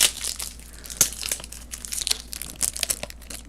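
A plastic packet of card top loaders crinkles and crunches up close as it is handled, in a series of loud irregular bursts with no talking.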